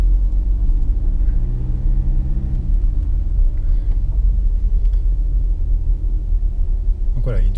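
A Volkswagen Tiguan II engine rumbles as it accelerates hard up a steep slope, a loud, continuous low drone heard from inside the cabin while someone talks over it.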